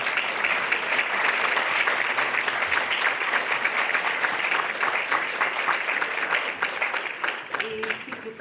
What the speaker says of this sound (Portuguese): os nossos oradores e todo o público merecem uma salva de palmas